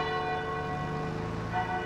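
Church bells ring out in a farm setting, a steady resonant peal with layered sustained tones, fairly faint and heard alone without talk for a short stretch.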